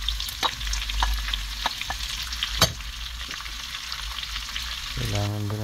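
Onions frying in a pan for Batangas-style pastil, a steady close sizzle with scattered pops and stirring scrapes, alone with no talk until a voice breaks in at the end.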